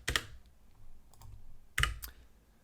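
Two brief bursts of keystrokes on a Glorious modular TKL mechanical keyboard, crisp clicky taps close up with a short pause between, played back slowly with no talking.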